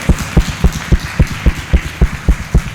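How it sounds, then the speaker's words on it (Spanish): Rhythmic hand clapping from an audience at a Bible study talk, about ten evenly spaced claps in under three seconds, close and fairly loud. "Saludamos a la gente de YouTube con un fuerte aplauso, por favor, para empezar"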